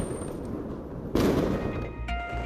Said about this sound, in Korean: 시민들이 곳곳에서 이렇게 폭죽을 터뜨리고 있습니다